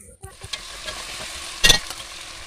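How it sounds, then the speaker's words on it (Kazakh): Something fries in oil in a pan, a faint steady sizzle with soft stirring scrapes, a brief louder hiss burst near the middle, heard close and without talk. "Енді табамызға кішкене май құйып, қуырамыз."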